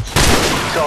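Gunfire in the PC game Call of Duty 4: Modern Warfare, a loud sudden burst of shots with a dense crackling decay, close and harsh, heavy enough to resemble an explosion-like blast.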